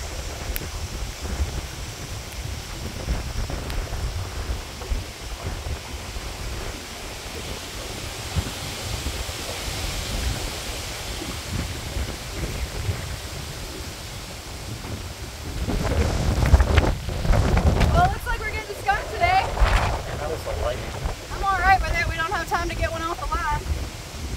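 Storm waves churn on a river under gusting wind, a steady rough wash of noise that swells louder in the latter part, with voices talking over it.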